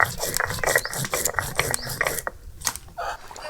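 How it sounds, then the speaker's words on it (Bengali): Garam masala ground into a paste on a grinding stone, a close, rhythmic rasping scrape of stone on stone repeating in quick strokes, with brief pauses near the end. "কাঁটা মাছের দেওয়ার জন্য গরম মশলাটা বেটে নিচ্ছি।"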